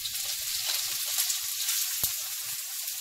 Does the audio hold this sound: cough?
no